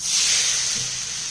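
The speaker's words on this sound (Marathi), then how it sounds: "या तापलेल्या तव्यावरती हे आपलं थालीपीठ असं टाकून घ्यायचं आहे" Thalipeeth dough dropping onto oil on a hot tava produces a steady, bright sizzling hiss, close and even throughout, with no talking.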